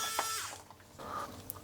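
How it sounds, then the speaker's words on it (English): A powered screwdriver removes screws from an Amiga 1200 computer case, giving a short whirring buzz that rises and falls, fairly quiet and close, with a small click near the end. "Then we have the fun task of removing all those screws once more."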